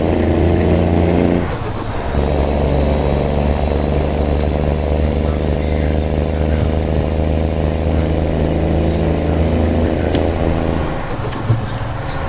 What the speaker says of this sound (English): This truck just sounds amazing though.